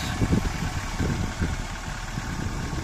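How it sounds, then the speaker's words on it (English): A Mercedes-Benz 190E with an M102 engine converted to full fuel injection runs with a steady low rumble and slight pulsing, close and moderately loud, with no voices. "this M102 engine is powerful so powerful I'm just impressed"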